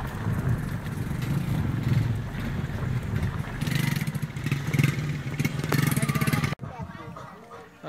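Motorcycle engines rumble and rev nearby at a rural bull-catching event with horses, a continuous loud drone with clattering, and people talking underneath before the noise suddenly drops.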